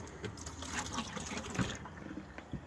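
RV antifreeze pouring into a camper's drain trap while winterizing, a steady liquid trickle and gurgle that runs for a couple of seconds at moderate level, with faint room noise behind it.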